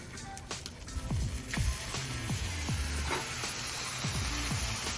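A flipped smash burger patty sizzles on a flat-top Blackstone griddle in a constant, crackling hiss, with a few light scrapes close by.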